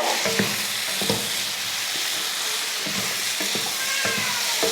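Potatoes frying in a pan for a potato fry, heard as a loud continuous hiss with repeated spatula scrapes and taps stirring them close up, and no talk.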